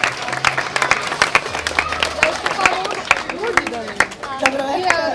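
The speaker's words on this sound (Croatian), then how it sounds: "Tako da veliki aplauz za si dobro" An audience claps steadily at a hair styling show celebrating a stylist's 20 years of work, with a voice speaking over the dense patter of hands throughout.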